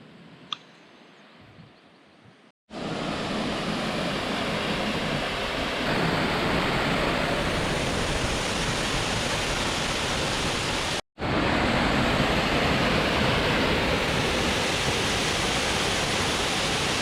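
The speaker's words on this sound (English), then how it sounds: "And the waterfall, guys, is just amazing." Waterfall in Pipestone, Minnesota, a loud, constant rushing roar that cuts in after a quiet moment and continues unbroken apart from one brief dropout.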